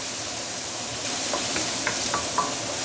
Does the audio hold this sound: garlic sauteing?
yes